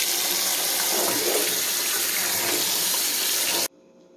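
Running tap water splashes steadily while dirt is washed off pumpkins outdoors, a loud, close, continuous hiss lasting a few seconds before cutting off abruptly.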